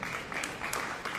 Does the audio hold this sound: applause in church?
yes